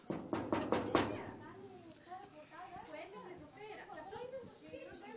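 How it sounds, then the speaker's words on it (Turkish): A quick series of about five sharp knocks on a door near the start, followed by quieter room noise and faint voices. "Evet kapıyı çalıyoruz şu anda."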